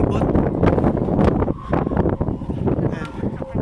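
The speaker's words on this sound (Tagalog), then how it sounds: "Yung lakas ng hangin sumisipol." Strong wind buffets the microphone outdoors near an oil refinery at sunset, a loud continuous roar with gusty swells, while a person talks over it.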